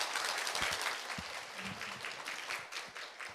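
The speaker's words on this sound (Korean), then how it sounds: "큰 박수로 맞이해 주십시오." Faint, distant applause rises from the audience at a Daejeon child-care policy forum to welcome a speaker, a soft wash of clapping with a few sharper claps close by.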